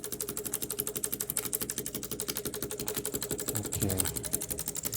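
Small Mamod showman's steam engine with slide valve running steadily, a fast, even mechanical chuffing and clicking rhythm at moderate distance, briefly joined by a low knock near the end.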